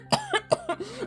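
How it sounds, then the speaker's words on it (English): A woman in an audio drama coughs in a rough, wet fit of about five bursts over roughly a second, close and clear, with no talk over it. "She exploded into coughing again, splattering the floor with red."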